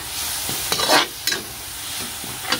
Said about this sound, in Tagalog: Tapos, maglalagay ako ng ito. Tsaka, itong oyster sauce. Gigisa ko lang to.